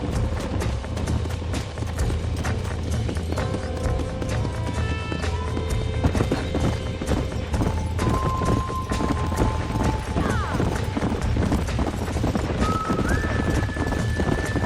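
Horses gallop in the video game Red Dead Redemption, a fast steady clip-clop of hooves heading back to a ranch, with occasional whinnies, brief voices and soft game music underneath.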